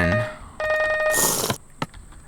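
A large bat phone in the video game Hypixel Skyblock rings with a bright, steady electronic trill that starts after a short pause and cuts off abruptly, followed by a sharp click.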